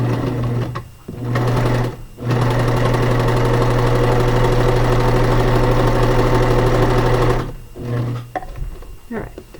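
Sewing machine stitching elastic casing onto a serged cloth diaper, running in a loud, steady motor hum close by, with brief pauses near the start and a stop toward the end before resuming in short bursts.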